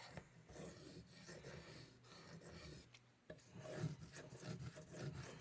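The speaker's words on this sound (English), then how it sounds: "what I'm doing right now is trying to cut a new bevel on this blade." A Victorinox Adventurer knife blade rubbed back and forth on a Belgian Coticule whetstone with slurry, giving a quiet, continuous rasping scrape that swells and fades in repeated strokes.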